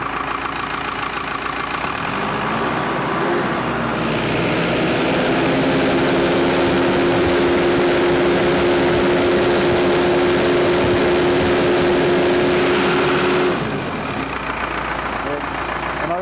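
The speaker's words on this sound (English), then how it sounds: "On this machine we're going to use a hydraulic stall, full throttle." Diesel engine held at full throttle in a hydraulic stall test, a loud steady roar that ramps up near the start, holds a strained drone with a rising whine, then eases back down near the end.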